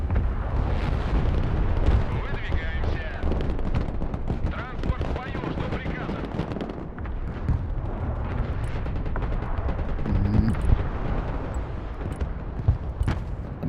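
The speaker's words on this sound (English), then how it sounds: "The mobile mortars in here as well." Mobile mortars and other battlefield guns fire in the video game Broken Arrow: repeated booming shots and rattling gunfire over a dense, continuous din of combat, with voices talking through it.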